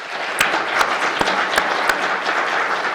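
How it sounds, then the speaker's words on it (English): Applause from the audience at a community poetry and barbecue event, with a handful of louder individual claps standing out from the steady patter of hands. The clapping is close and moderately loud and runs without any talk. "They deserve a round of applause."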